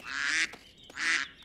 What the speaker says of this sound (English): Hey, stop that, you ducks.